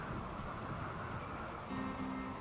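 Rain in the video game Rimworld, a steady soft hiss of falling water, faint and even throughout, with no voices.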